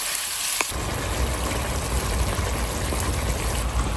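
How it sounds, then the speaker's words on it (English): Vegetables sautéing in a pan with salmon, a loud, steady close-up sizzle that starts abruptly and holds as a dense crackling hiss. "I'm just gonna let it sauteed here"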